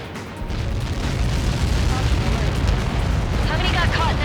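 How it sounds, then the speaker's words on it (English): A massive explosion rumbles in the Ace Combat 7 flight game, a loud sustained roaring blast with deep low rumble that persists throughout, accompanied by radio-style voices. "How many got caught in that explosion?"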